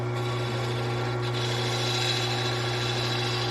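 A lathe tool cuts the inside curve of a turned wooden pear, giving a steady, even whir with a soft scraping edge, constant throughout with no talking.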